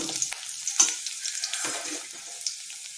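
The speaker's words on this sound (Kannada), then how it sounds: "ಈಗ ಈರುಳ್ಳಿ ಹಾಕ್ಕೊಳ್ತಾ ಇದ್ದೀನಿ ಇದಿಷ್ಟನ್ನು ಸ್ವಲ್ಪ ಚೆನ್ನಾಗಿ ಹುರ್ಕೊಳ್ಳೋಣ" Onions sizzle softly in a pan, with a few sharp scrapes and stirring clicks over a quiet hiss.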